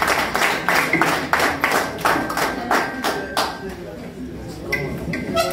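Audience applause at the launch of the JCI Conakry Coaching Orientation Professionnelle programme in Guinea: a dense, steady patter of many hands clapping that carries through the whole stretch, with speech mixed in.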